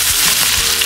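Stingray simmering in coconut milk for ginataang pagi with malunggay gives off a steady, loud broadband sizzle and bubbling close by, continuous throughout with no talking.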